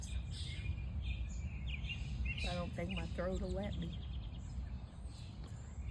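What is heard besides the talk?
birds singing outdoors in the morning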